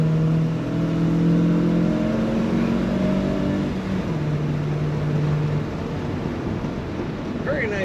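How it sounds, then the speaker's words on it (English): A 1972 Chevrolet Cheyenne C10 pickup engine runs steadily at close range, its loud low rumble holding for several seconds before easing to a rougher idle under broad road-like noise. "Very nice running Chevy C10 from 1972."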